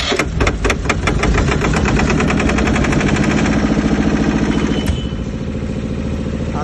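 A Kirloskar 15 kVA silent diesel generator set runs steadily with a dense, rattling engine throb. It stays loud and close throughout, with a slight change in tone near the end.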